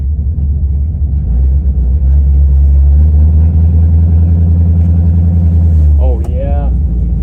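A 1962 Mercury car engine idles with a loud, steady low rumble, then shifts into reverse with a brief clunk and a rising whine near the end.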